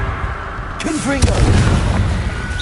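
A blasting-spell explosion from a video game bursts out loud and close, a sharp crack followed by a rumbling, crackling tail, with a voice shouting just before and over the start of the blast.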